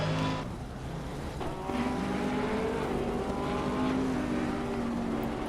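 GT3 race cars in the Assetto Corsa Competizione video game, racing at Laguna Seca. Several engines drone and whine together at a moderate level, their pitches shifting as they jostle through the corners, with no voices.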